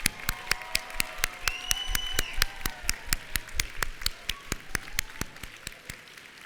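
Sharp, evenly spaced claps ring out at a nursing pinning ceremony for new registered nurses, over a soft sustained tone in the hall, slowing and thinning out toward the end.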